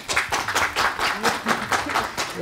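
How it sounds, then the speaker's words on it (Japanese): A small group in a studio claps and applauds to welcome a surprise guest, a brisk continuous patter of hands with voices mixed in throughout. "拍手。"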